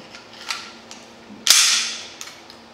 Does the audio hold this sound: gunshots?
yes